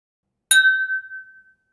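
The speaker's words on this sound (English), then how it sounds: "the sound that wine or beer glasses make when they clink together" Wine or beer glasses clink together once, a sharp clear chink followed by a bright ringing tone that fades slowly, with nothing else around it.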